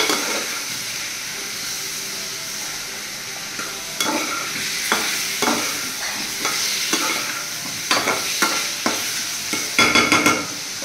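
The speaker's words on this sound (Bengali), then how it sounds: "আর 1 চিমটি দিয়ে ভালো করে নেড়ে, ভালো করে ভেজে" A spoon stirs frying spices, ginger among them, in a pan, scraping in a steady run of strokes over a constant sizzle and hiss, growing busier and louder toward the end, with no talk.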